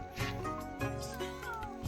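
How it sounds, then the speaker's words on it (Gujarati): A cat meows in a drawn-out, wavering call close to the microphone, a single continuous vocalization lasting nearly two seconds, set in village surroundings. "આવું મીંદડી બોલતી છે"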